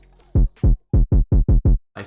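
A thumpy kick drum sample for a hard trap beat hits seven times in quick succession, each punchy low thud decaying fast, close and loud with no other sound around it.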